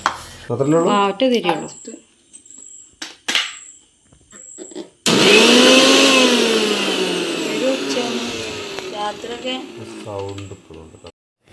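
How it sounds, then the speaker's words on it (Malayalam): A V-Guard VX 750 Plus mixer grinder starts with a sudden loud whir that runs steadily and slowly fades, after stretches of speech and brief clicks of jars being fitted. "എല്ലാ ജാറും ഓണാക്കി വെക്കുകയാണ് കേട്ടോ വർക്കിംഗ് അല്ലേന്ന്"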